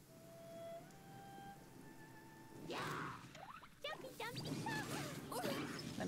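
Rainfall in the video game Genshin Impact: a steady, soft hiss of rain under rising chime-like game tones and bursts of combat effects.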